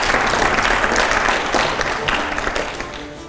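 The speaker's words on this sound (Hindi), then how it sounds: "क्या बात है, जोरदार तालियां हो जाए।" Loud, dense applause from a studio audience at a Hindi news show, sustained throughout and tapering slightly toward the end, with no speech over it.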